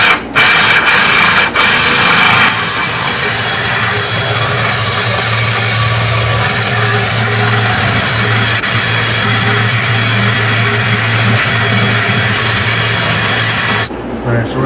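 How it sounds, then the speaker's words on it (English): A steady mechanical drone of a wet drill bit boring into hard material runs continuously for most of the clip, with a few sharp knocks at the start. "so we're going to start drilling and see what happens"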